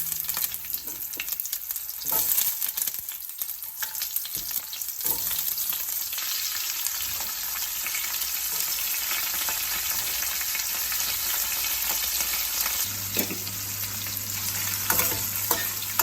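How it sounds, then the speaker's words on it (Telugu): Chopped onions and green chillies hit hot oil in a pan already holding roasted dal and curry leaves for egg curry, giving a loud, steady, close sizzle that hisses on without a break and with no talking. "ఇప్పుడు కట్ చేసి పెట్టుకున్న ఆనియన్స్, చిల్లీస్ వేసుకోవాలి."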